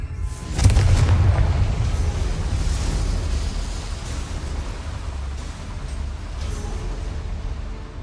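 A fire spell explodes in the Hogwarts Legacy video game, a deep, loud boom near the start followed by a long rumbling, crackling burn that slowly fades, with no talking.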